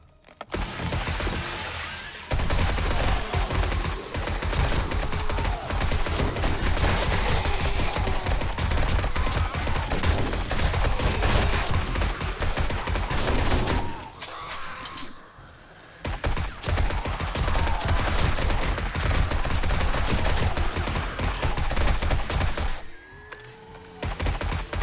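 Sustained rapid automatic fire from a modded AR-15 rifle in 7 Days to Die, loud and continuous bursts of dense shots with brief pauses around the middle and near the end.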